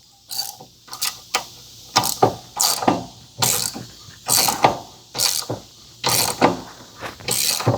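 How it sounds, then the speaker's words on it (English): A regular hand ratchet tightens a lug nut on a Husqvarna zero-turn mower wheel, giving repeated rhythmic clicking strokes, about a dozen bursts in a steady back-and-forth pattern, close and loud with no talking. "I'm using a regular ratchet, and just in case I need to put more pressure, I got a breaker bar."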